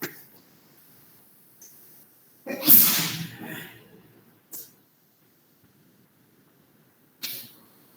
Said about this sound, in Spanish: solo voy a estornudar